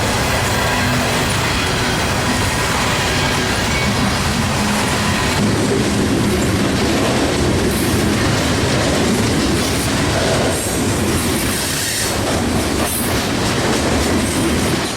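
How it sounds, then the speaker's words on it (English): A daily mixed manifest freight train from St. Paul to Bensenville, Illinois, with mid-train DP power, rolls past steadily and loudly, wheels clattering in a continuous rhythmic clickety-clack with rumbling cars throughout, in winter. "Train 280 is a daily, mixed manifest freight train out of St. Paul heading for Bensenville,"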